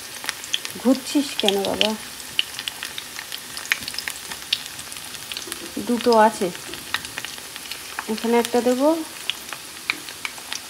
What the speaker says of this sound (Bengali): ব্যাস একসঙ্গেই সব বড়াগুলো ভাজা করা হয়ে যাবে।